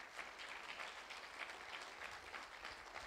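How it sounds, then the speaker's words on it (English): A church audience applauds a sixth-place award team, a steady wash of many hands clapping, faint and distant, with no voices over it. "let's give them a round of applause"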